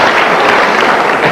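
Audience clapping in a live show hall, a dense, loud, steady burst of many hands that runs briefly and evenly throughout.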